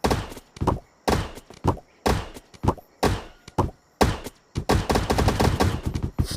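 Rapid bursts of gunfire from weapons in the video game Yeeps, loud and close, coming in short separated volleys before merging into a denser stretch of fast repeated shots near the end.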